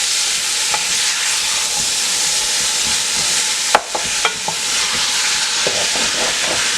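Oxtails and onions sizzle loudly in a pot on medium heat, a dense steady hiss broken by a few sharp scrapes and knocks of a spoon as the mixture is stirred.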